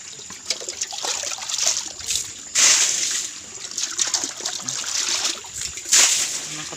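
Thin water trickling weakly from a tap and dribbling steadily, with a couple of brief splashy surges; nearby and moderately quiet.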